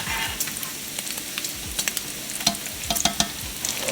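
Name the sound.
bacon frying in a pan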